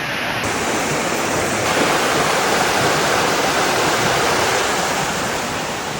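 Strong river water rushes beneath a highway bridge in a loud, continuous, broadband roar that stays constant throughout with no voices.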